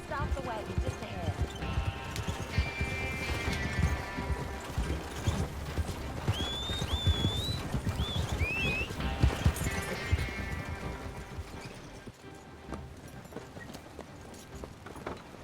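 Horses pull a wagon in Red Dead Online, a steady clip-clop of hooves with rattling wheels and creaking harness, plus occasional whinnies and game music over the top.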